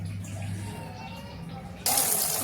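Cauliflower washed under running water, a steady close trickle that suddenly swells into a louder gushing flow near the end.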